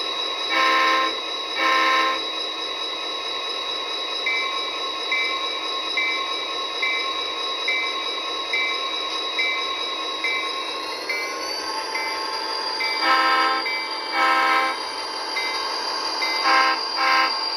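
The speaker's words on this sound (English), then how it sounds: "let's put this one on the track too so you can hear it and see the lights" A small electric model locomotive, an Athearn diesel, hums steadily with a high whine on the track, punctuated by repeated bursts of horn-like tones and clicking sounds.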